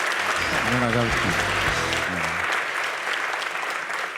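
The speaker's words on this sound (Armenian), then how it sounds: "Այդ փաստով մի հատ ուրիշ բարձրությամբ ենք ծափարում" An audience claps loudly and continuously in a dense wash of applause, with a voice speaking over it during the first half.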